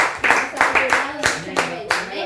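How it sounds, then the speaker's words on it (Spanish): Congregation clapping at a church teaching service, a run of distinct, fairly close group claps in an uneven rhythm, with a voice faintly underneath. "Denle un fuerte aplauso a nuestro hermano Dolores"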